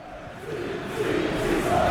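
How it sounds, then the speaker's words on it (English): Raucous football crowd roaring at Roker Park in PES 2021, a broad sustained din of many voices that swells louder toward the end. "this raucous Roker Park crowd in their final season"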